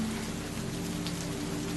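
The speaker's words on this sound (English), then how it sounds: "One afternoon, a rain shower drove him and the other farmers to abandon their work for a few hours" Steady rain shower pattering over fields outside a Japanese village, an even, continuous hiss of drops with a low background hum and no voices.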